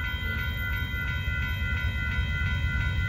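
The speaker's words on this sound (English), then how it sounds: "We got a northbound BNSF auto train" A northbound BNSF auto train passing at Dittmar Road in Austin, Texas, a loud steady rumble of wheels and cars with a continuous tonal squeal and faint rhythmic clicks over rail joints, no talk.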